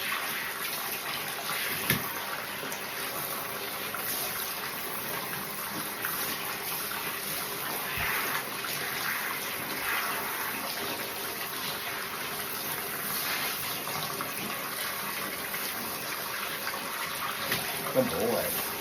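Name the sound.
water rinsing conditioner out of a dog's coat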